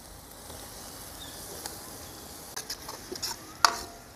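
Onions fry in oil for a fish curry made with big trevally, giving a faint, steady sizzle with a few light clinks of a utensil near the end.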